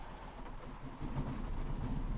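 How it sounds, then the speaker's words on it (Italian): A camper's generator starts at about -7 °C, giving a low, rough mechanical rumble that steps up in loudness about a second in and then runs steadily. "è un trattore sto generatore. Adesso li precarica e io gli do e parte"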